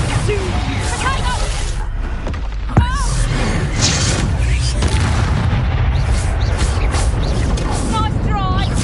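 Explosion spells go off in Hogwarts Legacy as dense, loud booming blasts over a constant roar of game effects, with a voice shouting over them.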